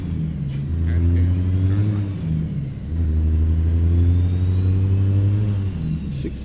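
A video game truck engine revs repeatedly, its pitch climbing and dropping in two long surges with a whining high tone on top, loud and close.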